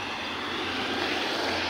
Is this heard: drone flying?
yes